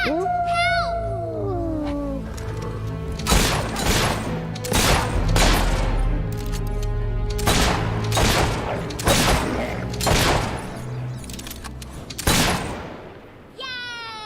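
Gunshots crack out from a gun in the video game Fable 3, about eight sharp, loud reports spaced a second or so apart over a background of music, with brief voice sounds at the start and end.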